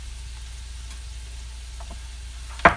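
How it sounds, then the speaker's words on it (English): Ginger and garlic sauté in a pan with a steady, soft sizzle throughout, ending with a brief sharper clatter near the close; no talking. "Got the garlic in there. Browning, sauteing."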